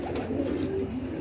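A female pigeon gives a low, throaty coo, a rolling, even hum sustained for about a second, fairly close and clear with no talking.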